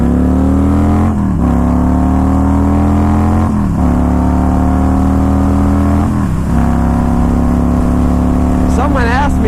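Loud, close engine roar from a Yamaha 950 motorcycle accelerating hard in second gear, pitch climbing in repeated surges between shifts, with a voice talking over it.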